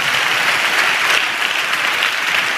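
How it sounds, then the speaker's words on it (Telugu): A church congregation claps loudly in unison, a dense, steady wash of applause that fills the room from start to finish with no voices standing out. "గట్టిగా చప్పట్లు కొడుతూ స్తోత్రాలు చెప్దాం."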